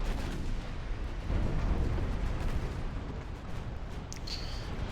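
Heavy naval guns fire in the warship battle game Ultimate Admiral Dreadnoughts, a dense, continuous rumble of distant booms and blasts rolling on without pause.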